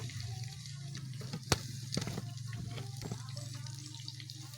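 Steady low sizzle of fish frying in hot oil, with occasional sharp pops and crackles, close by and fairly quiet.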